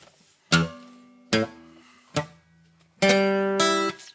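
Several harsh, clanky guitar strums with buzzing, choked attacks, three short ones spaced apart, then a longer ringing chord, with no talking.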